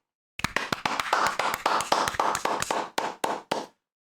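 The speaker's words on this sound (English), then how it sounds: "Clap it up for the jury." A small group claps for a jury in a deliberation room, a short burst of close, uneven hand claps that thins to a few final claps before stopping.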